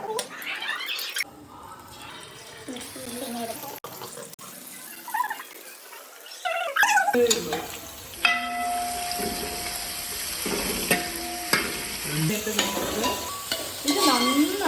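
Food sautéing in oil in a pan during home biryani cooking, with steady sizzling and stirring scrapes that grow louder and denser in the second half, alongside a brief run of tap water and faint speech.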